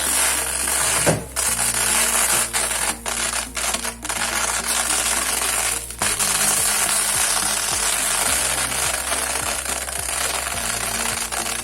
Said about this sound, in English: Now we will fry this little properly.